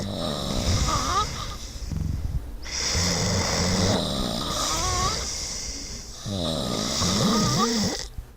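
A man snores loudly in three long, rasping cycles, each a rattling, drawn-out breath close to the listener, separated by short pauses.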